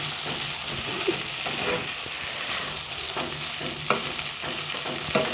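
Chicken biryani being stirred in a hot pan at home, with steady frying sizzle and repeated scraping of a spoon against the pan, close up and alone without voices.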